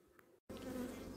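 A steady, dense hum of about 60,000 honeybees buzzing together in a hive, close and continuous after a brief cut to silence.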